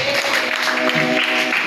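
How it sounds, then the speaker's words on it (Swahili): A church congregation claps their hands for Jesus, a loud, even wash of many hands clapping together, with a sustained musical tone ringing beneath the applause throughout. "Tumpige Yesu makofi"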